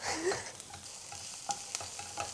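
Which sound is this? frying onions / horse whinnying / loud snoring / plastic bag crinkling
frying onions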